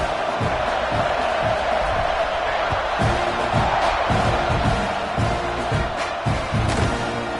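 A large stadium crowd at a College Football 26 game keeps up a constant roar, with scattered thumps and shouts rising from the dense wash of noise.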